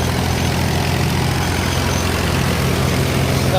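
A Swaraj 735 tractor engine labors uphill in second gear, a constant low diesel drone with a steady throbbing rumble, close and loud, running alone without talk.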